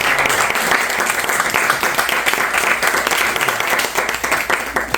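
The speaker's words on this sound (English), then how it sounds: "But we need to give a big round of applause." An audience at a book fair event applauds steadily and loudly, a dense continuous wash of many hands clapping throughout, with no individual voice standing out.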